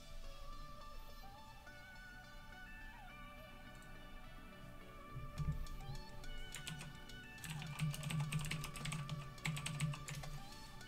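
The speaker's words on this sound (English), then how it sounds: "But you can probably hear him typing. Like he smashes." Hard, fast typing on a computer keyboard, loud and clattering, carries through a Summoners War session, with bursts of heavier smashing keystrokes near the end over a low background hum.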